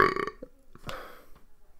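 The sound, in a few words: burp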